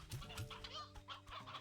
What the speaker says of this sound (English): Got a crap load of roosters, though.